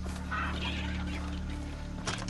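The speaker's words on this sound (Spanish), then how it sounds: "Matando gallinas, qué poca vergüenza." Chickens clucking in the video game Far Cry 3, a short busy burst of fowl calls over a steady low game hum and background ambience.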